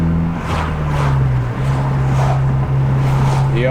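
Invidia R400 exhaust on a 2018 Honda Civic Si during normal driving, a low steady drone with the engine note holding fairly even, heard from inside the cabin with windows slightly open and some wind rush.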